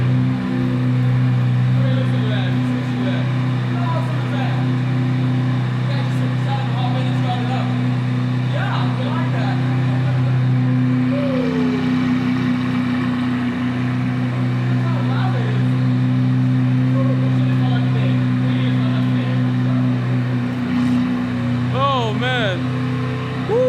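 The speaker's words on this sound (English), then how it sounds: "would you listen to that? Listen to that. Look at that exhaust." A supercar's exhaust droning loud and close, a deep steady engine note with swells of revving, while excited voices talk over it almost throughout.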